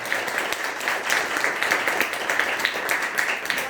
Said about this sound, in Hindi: जोरदार ताली बजाइए अपने प्रभु यीशु।